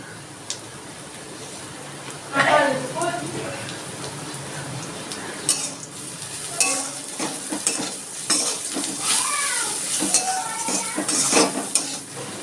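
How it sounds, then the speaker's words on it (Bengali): Cumin seeds dropped into a cleared spot in the middle of a hot kadai with a little salt give a close, steady sizzle, with clinking and scraping of a utensil against the pan throughout. "কড়ার মাঝখানে একটু ফাঁকা করে দিয়ে দিচ্ছি দুটো সাদা জিরে"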